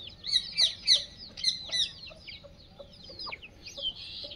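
Young Aseel chicks cluck and chirp on a free-range poultry farm in a series of sharp, close calls, louder at first and then trailing off into softer chatter.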